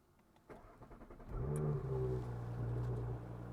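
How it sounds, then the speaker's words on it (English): Quiet mechanical clicks, then a car engine cranks and catches, rising to a brief rev before settling into a steady idle. "Let's do the engine start, stop."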